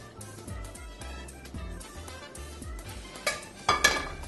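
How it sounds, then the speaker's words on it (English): Shrimp and mushrooms tumble into a pan already holding cooked penne, giving a run of soft clattering thumps and scrapes followed by a couple of sharper clinks near the end, close up with no talking. "Got our shrimp and mushrooms. Toss that right in."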